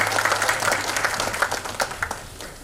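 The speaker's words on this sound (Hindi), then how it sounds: "एक बार तालियां बजाएं" An audience applauds at an award ceremony in Kolkata, steady dense clapping from a crowd that carries on for a few seconds before slowly tapering.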